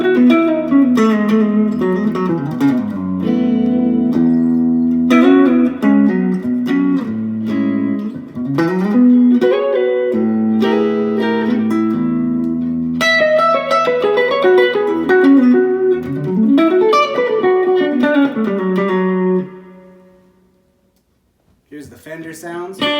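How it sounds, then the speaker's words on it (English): Electric guitar played through the jazz chorus amp model of a Roland Cube Street, with clean chorused chords and melodic runs ringing steadily for about twenty seconds, then fading to near silence before a last short strum. "This is the jazz chorus amp."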